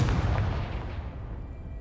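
A Confringo spell blast in Hogwarts Legacy: one loud, deep explosive boom right at the start, with a heavy low rumble that slowly decays and trails off over the following two seconds.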